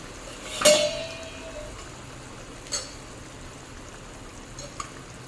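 A lid clanks down onto a cooking pan of prawn malai curry made with raw mango, simmering over a medium-low flame. One bright metallic ring is followed by faint, soft knocks, with no talk.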